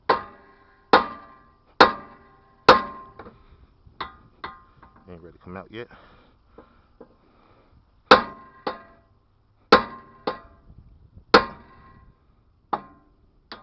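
Sharp metallic hammer taps from a big hammer ring out close by on a vehicle axle in uneven bursts, each decaying quickly, with a short spoken remark partway through.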